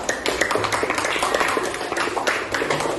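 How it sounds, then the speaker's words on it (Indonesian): Students clap in a classroom group discussion, giving a brief, fairly quiet round of scattered hand claps that continues for a few seconds. "Ya, tepuk tangan dulu."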